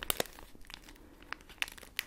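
Dense, non-shiny paper packaging from a subscription box crinkled and crunched close to the mic in a quiet ASMR unboxing, a few sharp crackles scattered among softer rustles.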